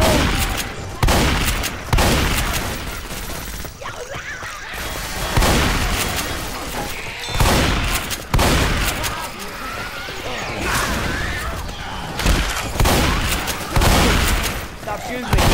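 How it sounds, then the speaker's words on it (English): Left 4 Dead 2 gunfire: loud, repeated bursts of shots with crashes and booms between them, close and heavy, with some talk mixed in. "Stop shooting me."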